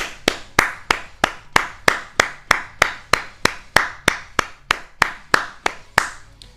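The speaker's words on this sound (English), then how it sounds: "Genuinely, a big round of applause for the developers." A single pair of hands claps slowly and steadily, about seventeen sharp, evenly spaced claps, each close and loud with a short ring after it. No voices.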